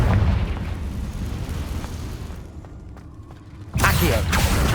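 A Confringo spell explosion in the PC game Hogwarts Legacy, heard as a loud burst with a rumbling tail over dense game sound. The din dips briefly before another sharp blast arrives near the end.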